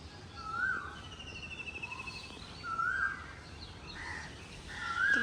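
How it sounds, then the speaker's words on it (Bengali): An Asian koel calls from nearby trees in spring, giving three clear rising notes spaced a couple of seconds apart over a quiet outdoor background with faint distant chirps. "আপনারা নিশ্চয়ই শুনতেছেন কি সুন্দর কোকিল ডাকে।"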